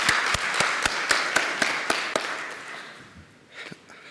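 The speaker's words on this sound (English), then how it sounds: "let's have a clap for you" Audience applause for users at a Digital Globe event, steady, rhythmic clapping from a crowd in a hall, fairly loud and close, tapering off after about three seconds into quieter room sound.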